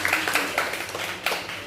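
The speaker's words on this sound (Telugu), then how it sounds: "మీరందరూ కూడా చప్పట్ల ద్వారా చప్పట్లు" Sharp, uneven handclaps from a small gathering at a wedding anniversary celebration, close and fairly loud, with irregular bursts over a low hum.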